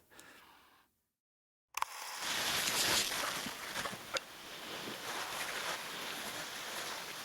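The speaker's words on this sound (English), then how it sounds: "Sailing in close here just to stay out of the current" A sailboat under way at sea close inshore near a lighthouse on the Spanish coast before Cape Finisterre, during a solo round-the-world race, with steady wind and water rush after a brief silent gap, plus occasional knocks and splashes.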